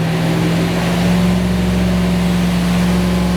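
A 1967 Buick Riviera with a 430 V8 runs on a dynamometer, producing a loud, close, continuous engine drone with a strong steady hum and only slight shifts in pitch.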